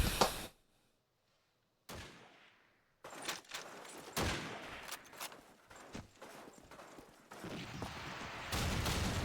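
A grenade explosion and gunfire from Call of Duty 2 break in after a brief silence. Sharp, loud shots and blasts burst irregularly, then give way to denser clattering fire toward the end.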